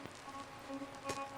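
Light rain patters down in the video game Misericorde, a soft, faint wash of drops with a few sharper taps standing out, steady and distant-sounding with no voices.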